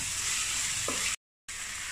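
Onions seasoned with salt fry in a pan, a steady close hiss with a faint scrape of stirring, broken by a brief silent gap before the sizzle resumes.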